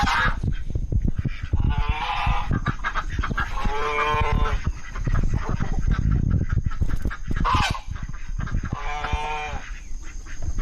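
Loud, honking duck calls in repeated bursts, close by on a homestead, with a steady background hum and no talking.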